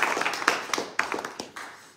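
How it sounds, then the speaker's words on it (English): A small audience at an evening class gives a round of applause, thin and uneven clapping from a handful of people that fades away quickly. "so a big round of applause."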